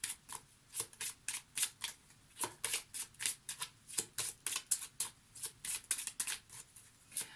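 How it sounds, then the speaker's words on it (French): A deck of tarot cards being shuffled close up, with a rapid, fairly regular run of crisp riffling slaps and flutters throughout and no voices. "Je vais tirer d'autres cartes"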